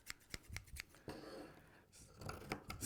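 Right-handed sewing scissors snip through fabric in a series of crisp, close cuts, with a quick burst at the start, a pause, then a few more snips near the end.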